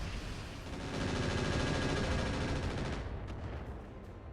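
Weapons fire and impacts in the mech video game RogueTech, a dense continuous roar of gunfire and hits that eases slightly toward the end.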